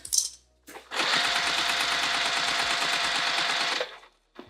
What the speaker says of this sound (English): lock stitch, and I just have to stop and start as I work my way around the bag